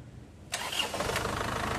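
An overhauled Isuzu Crosswind engine cranks and catches, then settles into a steady idle that carries on without a break.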